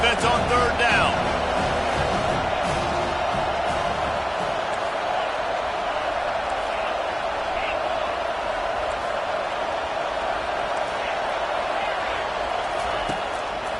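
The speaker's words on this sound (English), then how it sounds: "Decibels rising as the crowd gets behind this defense on third down" A stadium crowd in a college football video game roars loudly and steadily on a third down, a dense wall of noise that holds throughout with a voice talking over it.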